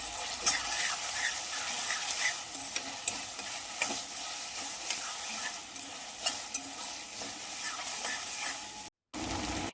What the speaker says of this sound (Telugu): ఈ అల్లం వెల్లుల్లి పేస్ట్ బాగా వేగిన తర్వాత